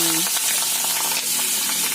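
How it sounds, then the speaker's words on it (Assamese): Fish sizzles steadily in a hot pan in a home kitchen, a continuous close crackle of frying oil with no pauses. "মাছ ভাজি আছে দেখাম আকৌ"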